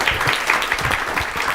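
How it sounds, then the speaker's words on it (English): A short burst of steady audience clapping follows a youth forum panel on the worldwide refugee crisis, dense and fairly loud throughout. "If we give a round of applause for today's panel."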